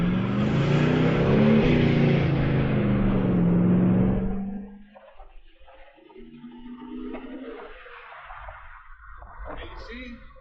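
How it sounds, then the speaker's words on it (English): A V8-swapped Chevrolet S10 pickup roars hard as its right rear tire spins on an open road, with loud engine revving for about four seconds before the noise drops to a quieter, fading rumble. "it's more than happy just to spin that right rear tire"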